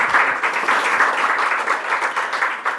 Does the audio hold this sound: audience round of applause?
yes